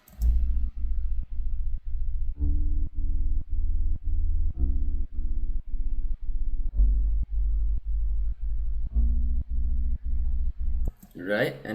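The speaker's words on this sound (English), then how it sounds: "So the bass I have in the intro and also verse 1 is this sub bass" Sub bass from the intro of a song breakdown: a steady run of deep, rhythmic bass notes pulsing in quick succession for several seconds, heard alone before a voice starts speaking at the very end.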